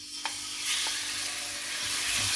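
Pork goes into a pan with garlic flowers and stir-fries with a steady close sizzle, broken by a few light clicks of a utensil against the pan.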